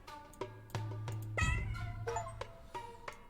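Cat meows from the video game 100 Cats, a few short cries rising over steady low background game music, close and moderately loud, no voices present.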